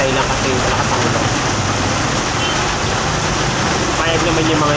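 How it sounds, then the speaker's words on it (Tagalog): Heavy rain pours in a dense, constant roar that fills the whole stretch with no letup, likely heard from inside a vehicle. "kasi malakas ang ulan"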